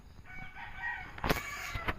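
A rooster crows nearby while free-ranging chickens cluck, quiet and close, with a few sharp scratchy noises near the end.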